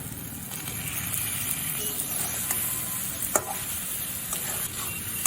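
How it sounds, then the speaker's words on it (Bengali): Fried potatoes and spices are stirred together in a hot pan, giving a continuous close sizzle broken by occasional sharp scrapes and taps of the spoon against the pan. "আলুর সাথেও মশলাটা খুব ভালো করে মিশিয়ে নেব"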